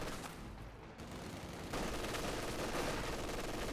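Machine-gun bursts from an MG42 in the Company of Heroes 2 battle game, a dense rattle of fire and battle noise that grows louder and fuller partway through, with no talking.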